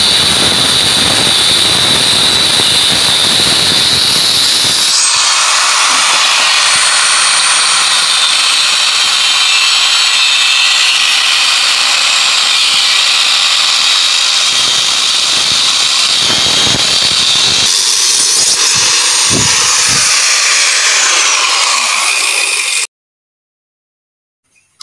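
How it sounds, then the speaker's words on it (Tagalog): An angle grinder cuts into the steel shell of an inverter refrigerator compressor, a loud continuous high-pitched screech and whine that runs steadily for about twenty seconds with small shifts in pitch, then stops abruptly. "Simulan natin grinder ito mga bossing para kita natin yung laman."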